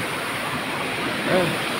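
Cold, shallow running water at a scenic spot rushes steadily as a broad, constant wash, with a faint voice briefly surfacing near the end.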